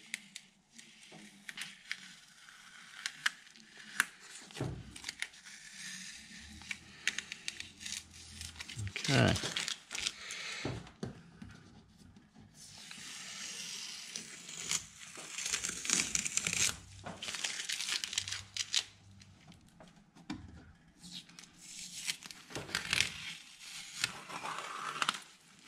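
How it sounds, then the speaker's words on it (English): Masking tape is peeled slowly off a watercolor painting on paper, making crinkly tearing rasps in several separate pulls, close by, with a voice talking now and then. "And so we're going to remove our tape."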